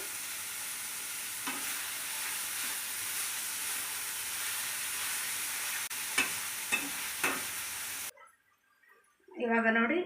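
Onions fry in a pan during mushroom gravy cooking, making a steady close sizzle with a few stirring scrapes, then the sound drops out and a voice speaks at the end.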